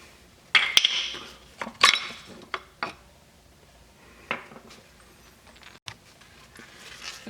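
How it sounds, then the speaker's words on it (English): Metal brake pads are pulled from a BMW brake caliper, a handful of sharp metallic clinks and taps spaced irregularly, close by and otherwise quiet. "Remove the brake pads."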